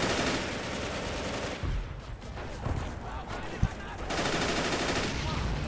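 Machine gun fire in a WWII Stalingrad-outskirts video game battle: dense, continuous rattling bursts fill the scene, pausing briefly in the middle before resuming just as loud.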